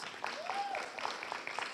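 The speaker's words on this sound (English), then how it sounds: "Please stand up, raise your hand, give them a round of applause" Audience applause at a university celebration gathering, a steady patter of clapping hands at moderate distance, fairly faint, with a faint voice or tone rising briefly above it.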